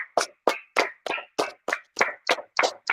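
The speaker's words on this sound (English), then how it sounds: "Let's clap it up." Audience clapping in unison at a religious gathering, ten sharp claps in a steady rhythm about three per second, loud and close with no talking.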